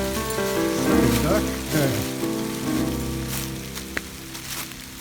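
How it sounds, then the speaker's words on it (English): Rain falls steadily on the surfaces around a tiny cabin during a windstorm, a continuous close patter and hiss, with a voice speaking briefly over it. "Oh, go away, rain."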